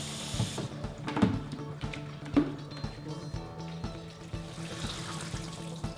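Water poured through a bucket of strawberries being rinsed, a continuous splashing, trickling flow with a few sharper splashes, close and moderately loud, no talking.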